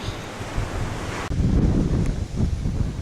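Strong wind buffets the microphone over the steady roar of surf on the coast at Dunwich, England, with gusts swelling and easing.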